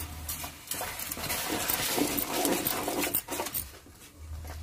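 Fenugreek greens curry being stirred in a pan, a steady scraping and clinking of a spoon against the metal with a low bubbling simmer, close and continuous throughout.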